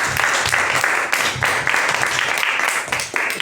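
Close, lively audience applause at a talk on playwright César de María's dramaturgy, with distinct clustered claps pulsing in uneven waves.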